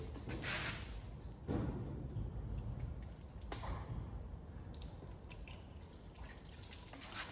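Water splashes and sputters onto hot metal from fresh welds on a Sur-Ron electric dirt bike swing arm, with sharp crackling hisses and drips over a steady rushing background, close and fairly loud throughout.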